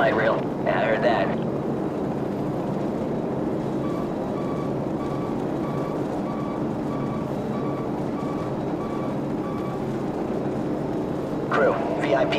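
Helicopters in the video game Call of Duty 4: Modern Warfare give off a steady, loud engine roar that holds evenly throughout. Faint electronic beeps and short bursts of other game sound come and go over it.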